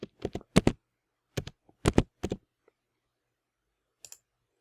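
Short bursts of typing and clicking on a computer keyboard and mouse, crisp and close, arriving in uneven clusters separated by quiet pauses.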